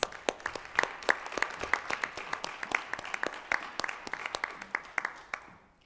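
A school board meeting audience applauds educators with a moderately distant, scattered patter of claps that carries on steadily and fades out near the end.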